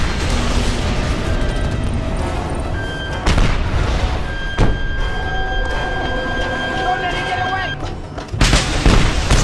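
Vehicle blowing up in Just Cause 2: loud booming blasts with sharp bursts and crackling debris over a dense rumble, followed by a final heavy explosion near the end.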